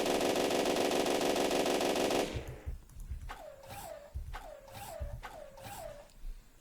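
SMG fire in the game Eclipsis, a dense continuous buzzing burst at first, then several short repeated bursts with whooping, falling electronic tones.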